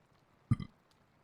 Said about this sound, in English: Tyson stifled a belch.